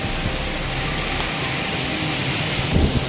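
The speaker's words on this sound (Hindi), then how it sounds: "बारिश लगता है बहुत तेज़ होने वाली है।" Heavy rain falls in a village, a dense, steady roar that fills the whole stretch, with a brief low rumble swelling near the end and no voices.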